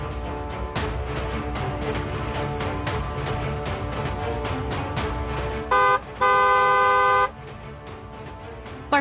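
A car horn honks twice, a short toot and then a longer blast, loud and near, over a busy, droning background.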